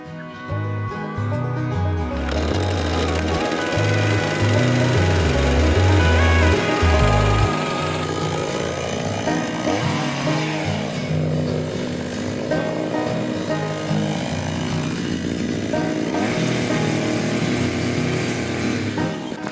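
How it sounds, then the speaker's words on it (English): A chainsaw engine runs loudly and close, revving and bogging as it cuts, its buzzing drone continuing throughout. "let's fire up this chainsaw."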